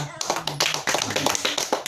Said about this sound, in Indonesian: sekali lagi kita tepuk tangan Bu ya